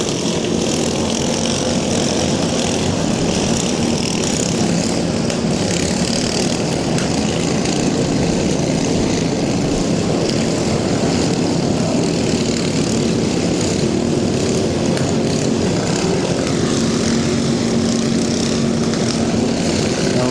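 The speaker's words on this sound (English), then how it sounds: "Somebody's got their mower revving up to the high side of the RPM limits right now." Lawn mower engine revving hard near the top of its RPM range at a Bash for Cash racing event, a loud continuous drone that holds steady throughout.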